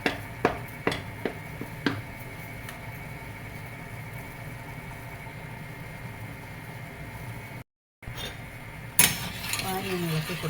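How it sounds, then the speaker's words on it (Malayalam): Banana halwa is stirred in a pan, with sharp metallic clinks and scrapes of a utensil against the pan at first, then a low steady cooking rumble, a brief gap, and renewed clattering at the end. "പാനി ഒന്ന് ഇളക്കി കൊടുക്കാം"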